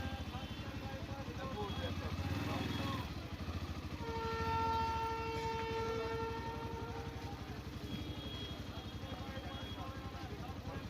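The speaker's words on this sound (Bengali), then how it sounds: "আর দেখতেই থাকো, এখন ট্রেন যাবে। ট্রেনও ঢুকে গেছে," A train passes a railway level crossing, a steady loud rumble with sustained horn-like tones in the middle, heard amid roadside engine noise.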